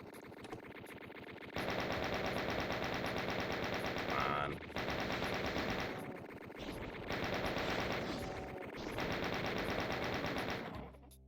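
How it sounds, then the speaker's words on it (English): A Chaingunner enemy in Doom 2 fires long sustained bursts of rapid machine-gun fire, broken by brief pauses, loud and continuous with no talk over it. "You can definitely hear Chain Gunner up there."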